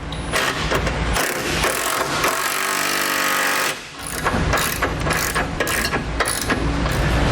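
A ratchet tightens the hardware on a Roadmaster crossbar-style tow base plate, giving dense, rapid mechanical clicking with metallic rattles, loud and close, with a short break midway before the clicking resumes.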